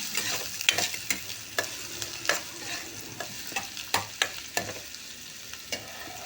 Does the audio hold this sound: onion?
yes